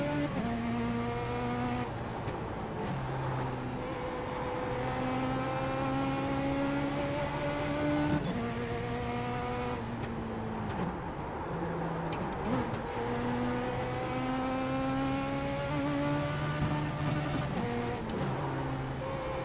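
Race car engine in the iRacing sim at Lanier National Speedway, a Rookie Legends Cup car, revving steadily then dropping and climbing again through several gear shifts, loud and close with no talk.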